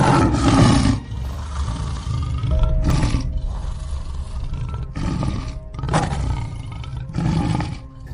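Lions roar in repeated deep, rumbling bursts, loud and close, with short pauses between the growling calls.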